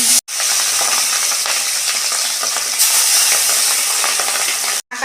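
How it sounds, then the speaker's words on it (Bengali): Katla fish fries in very hot oil in a wok, a loud, dense crackling sizzle that fills the scene almost continuously, with a brief break near the start and another near the end. "এই যে কড়াই তেল দিচ্ছি, কড়া গরম হয়ে গেছে, মাছ ভাজবো।"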